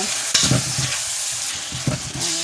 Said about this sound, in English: When you mix them up, the ackee, you have to spoon the ackee